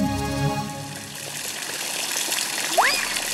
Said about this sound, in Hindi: जिंटू पानी डालो